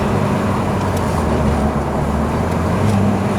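A 1993 Ford Escort RS Cosworth engine drones steadily from inside the moving car, a loud continuous low rumble with road noise and no distinct pause for a gear change.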